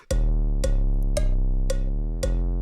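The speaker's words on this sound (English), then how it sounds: "I'm gonna add the cowbell setting" A hard rap beat built in FL Studio 21, with a cowbell hit landing on each of five evenly spaced accents over sustained chords and a deep, steady bass; loud and close, no voices.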